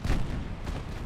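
Naval guns boom in a steady barrage of heavy, low rumbling shots aimed at transport ships during a battle in Ultimate Admiral Dreadnoughts, the firing continuous and close with no talk.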